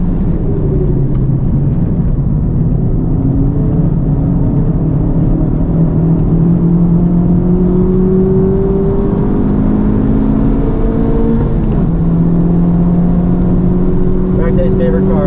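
A 2023 FL5 Honda Civic Type R tuned to 350 hp, its engine droning loudly from inside the cabin on a race track as it revs and shifts, with rising tones and a voice talking over it.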